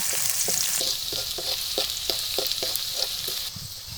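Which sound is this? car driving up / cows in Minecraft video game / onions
onions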